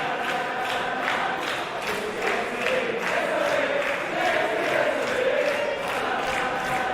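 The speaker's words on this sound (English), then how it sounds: "you hear the crowd singing" Dense crowd noise fills a women's wrestling arena at an EVE show, a steady roar of many voices with a sung, rhythmic chant swelling through it, loud and continuous for the whole stretch.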